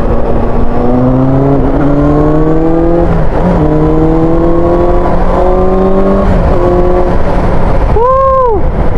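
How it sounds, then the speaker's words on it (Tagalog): A four-cylinder motorcycle engine revs loudly and steadily, its pitch rising and dipping across several throttle blips, then climbs in one sharp burst near the end. "Ito talaga ang isa sa mga napakagandang gamitin, ang 4-cylinder motorcycles."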